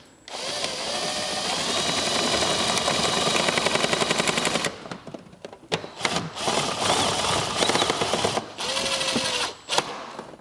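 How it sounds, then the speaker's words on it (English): A power drill bores a pilot hole for a screw while fitting a grille on an A45S AMG, with a loud continuous high-speed whine for several seconds, then short stop-start bursts of drilling. "Doing a quick pilot hole just so then the screw can screw in nice and neatly."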